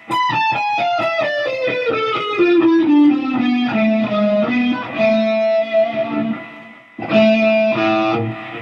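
A distorted electric guitar plays a quick descending run of notes, stepping down in repeated groups, then a brief pause before a final phrase.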